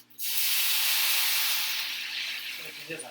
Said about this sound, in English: Pouring liquid into a hot pan.